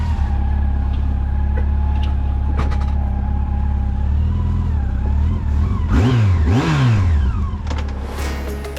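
A camper van engine runs at a steady low idle, then revs up twice in rising and falling surges as the van starts to pull away, loud and close throughout.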